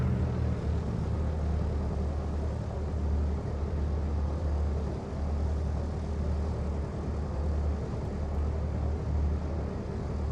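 An airplane lands in the Flight Sim World video game, with a steady, loud engine drone and a low rumble holding evenly throughout.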